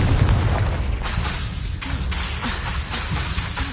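Booming blasts from the Confringo fire spell in the Hogwarts wizarding video game, with a deep rumbling explosion at the start and fiery crackling bursts following close and loud.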